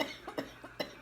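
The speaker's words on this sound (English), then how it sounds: "That's gonna make me cough even harder." Four short, soft coughs come in quick succession from one person, each a brief dry burst with no talking in between.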